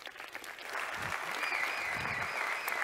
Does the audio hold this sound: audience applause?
yes